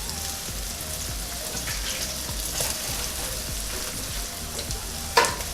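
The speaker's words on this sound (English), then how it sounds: "Just drop your sausage in. A little bit of oil inside the pan," Sausages sizzle and spatter in a little oil in a pan over medium-high heat, a steady close crackle with a sharper pop near the end.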